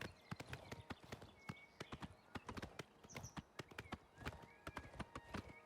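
Horse hooves clip-clop steadily at a running pace in the video game Oblivion Remastered, a quick, fairly even string of sharp knocks heard close and alone with no talk over them.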